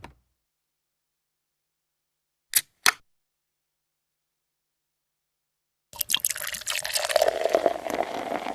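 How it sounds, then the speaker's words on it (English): A drink is opened with two short, sharp cracks, followed after a pause by liquid pouring, a rising gurgling splash that continues to the end. "Maybe we should open up a drink and pour it."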